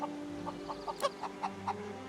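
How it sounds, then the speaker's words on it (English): A magic cockerel in the game Divinity: Original Sin II gives a run of short clucking, crowing calls, about six evenly spaced bursts over a steady background drone and game music. "Behold, it is I, the magic cockerel."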